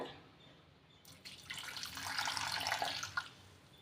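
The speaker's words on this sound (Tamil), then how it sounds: "இந்த வளையல ஒரு தடவை தண்ணியில் போட்டு நல்லா கழுவி எடுத்துக்கலாம்" Running water splashes softly into a basin, rising after a quiet start, with faint clinks and sloshing as bangles are rinsed.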